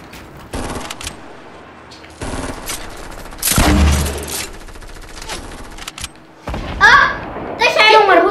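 Fortnite gunfire crackles in rapid bursts and single cracks in a 50 vs 50 match played on PS4, loud and close, while someone shouts excitedly over the shooting.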